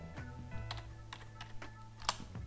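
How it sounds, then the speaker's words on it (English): Quiet keyboard keys clack in a loose, irregular run of presses, close by, with a faint background hum and no speech. "press R in the keyboard and change rotation"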